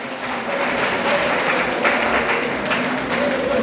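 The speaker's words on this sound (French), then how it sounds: "Allez, on l'applaudit, on les applaudit." People gathered at a funeral wake clap for volunteers after a grappling demonstration, a brief, moderately loud patter of mixed hands that continues evenly for a few seconds.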